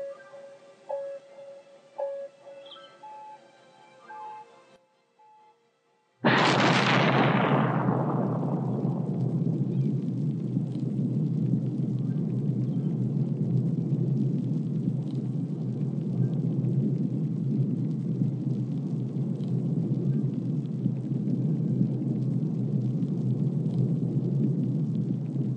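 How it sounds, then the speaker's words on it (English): A rocket launch at the ChirpX launch site in the city-building game Cities Skylines erupts in a sudden loud roar after a quiet stretch, then settles into a sustained deep rumble that holds steady to the end. "ride in the space launch, or the rocket launch at the ChirpX launch site"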